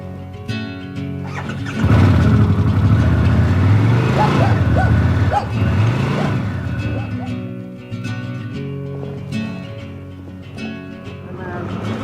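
A Harley-Davidson Pan America adventure motorcycle's engine kicks in with a loud, low rumble at about two seconds and holds steady with slight shifts in revs, while someone talks over it.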